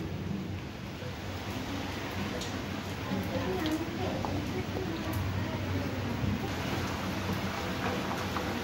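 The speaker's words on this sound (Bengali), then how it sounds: "শুনতে পাচ্ছ বাইরে কিন্তু খুব জোর বিদ্যুৎ চমকাচ্ছে, আর খুব বৃষ্টি হচ্ছে" Heavy rain pours steadily outdoors during a thunderstorm, a dense continuous hiss with low rumbling underneath, heard from inside a home kitchen at moderate level without clear talk.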